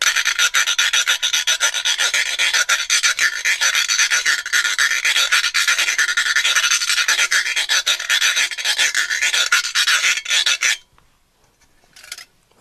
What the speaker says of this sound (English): we can also play on our cheese grater